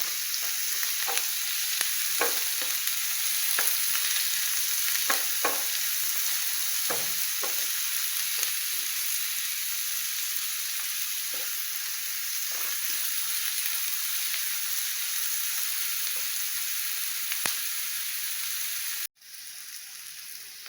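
Onions sautéing in a pan with salt for Kerala-style masala dosa filling, a steady continuous sizzle with scattered stirring scrapes and clicks throughout, dropping abruptly quieter near the end.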